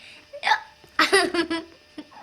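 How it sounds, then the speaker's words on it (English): A child hiccups twice close by, sharp short catches in the breath, with giggly voice sounds between them. "You get hiccups?"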